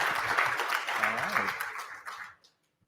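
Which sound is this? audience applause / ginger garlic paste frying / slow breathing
audience applause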